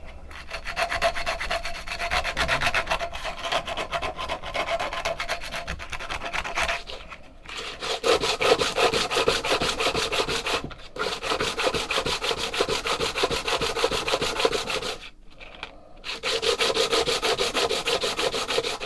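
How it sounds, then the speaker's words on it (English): Sandpaper rubbed along the edges of a Bowie knife guard, giving a steady rhythmic rasping scrape in long back-and-forth strokes, close and clear, with a few brief pauses. "sand the edges and then gradually keep going over with the finer papers"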